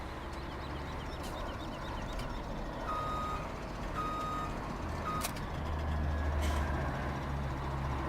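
Reversing beeps from a truck in Farming Simulator 17, repeating steadily over a constant low engine drone while the truck backs up to hook onto a milk trailer.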